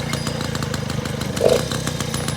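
A small 1988 Peugeot 103 Vogue moped engine runs steadily close by, a rapid buzzing putter with no voices.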